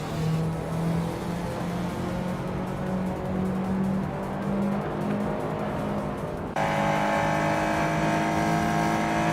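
Race cars, among them a 1989 Mazda RX-7 Turbo, roar past continuously with steady engine drone, shifting pitch and tire noise, loud and close throughout with a sharper, brighter engine tone in the final seconds.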